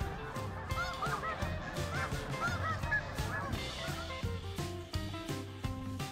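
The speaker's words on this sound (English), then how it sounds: "Now that all have returned to the water, and our snow goose neighbors have resumed their baseline behaviors" Snow geese honking on open water at a recreation park pond, a dense, continuous chorus of many overlapping nasal honks from a large flock, loud and steady with no voices.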